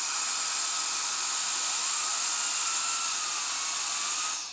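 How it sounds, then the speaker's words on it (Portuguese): A small 40x10mm Noctua fan spins inside a mini gaming PC with a steady, close high-pitched whine and airy hiss, its pitch drifting slightly before the sound tails off at the end. "como é um fan pequenininho, dá pra ouvir o barulho dele quando você tá jogando"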